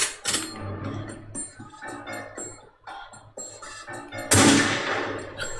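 Gunfire in The Godfather: The Game, with a quick series of shots and bursts mixed with game sounds, ending in one loud, sustained blast.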